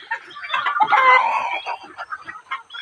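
Farm chickens cluck close by in a short, busy burst of overlapping calls, loud and alone with no talking.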